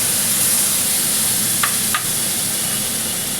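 Garlic juice hits a hot pan and sets off a loud, steady hiss of frying with a couple of brief clinks partway through and no voices.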